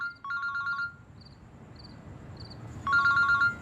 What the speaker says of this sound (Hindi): फोन किसका आ रहा है?